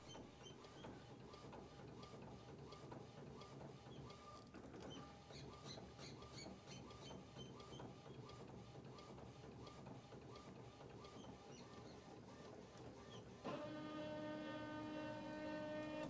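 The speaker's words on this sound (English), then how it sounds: "once you get a good bright white laying down, then the printer is primed and ready to continually print all day long" A DTG Kiosk II direct-to-garment printer lays down white ink, a steady mechanical whir with repeated carriage passes and clicks, shifting near the end to a louder, tonal whine as the mechanism moves.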